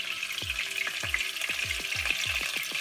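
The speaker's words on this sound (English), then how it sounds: "right now I'm cooking my shrimp" Shrimp frying in a hot pan for a quesadilla: a steady close sizzle with a series of sharp clicks and scrapes from stirring, repeating every half second or so, with no voices.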